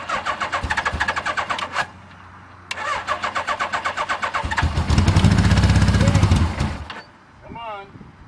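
Suzuki GS850G street motorcycle cold starting in winter: repeated rhythmic starter cranking in bursts, a pause, more cranking, then the engine catches and runs roughly before cutting out, close and loud.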